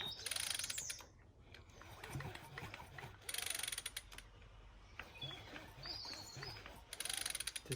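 The recoil starter cord of a KM Blade 34cc engine is pulled gently several times, each pull giving a ratcheting, creaking whir in separate bursts.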